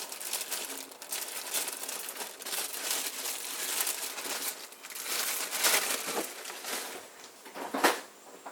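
A ham and bacon loaf pita wrap being folded and wrapped, giving a steady close crinkling and crumpling of paper or foil with a louder rustle near the end, no voices.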